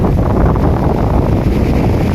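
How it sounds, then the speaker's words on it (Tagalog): Strong wind at a beach in Mindoro roars steadily into the microphone, a continuous low buffeting rumble with no pauses. "sobrang lakas ng hangin"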